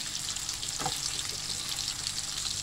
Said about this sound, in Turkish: Böyle çevire çevire kızartırsak her yeri aynı ölçüde kızarır.